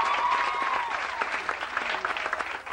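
Applause for departing students at a school gathering, a steady wash of clapping from a crowd throughout, fairly loud and close, with a faint voice or whistle-like tone early on.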